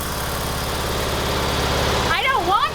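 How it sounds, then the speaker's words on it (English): A riding lawn mower engine idles in a steady, rough low drone with rapid pulsing, close and loud, and a voice cuts in near the end. "if you hear the engine,"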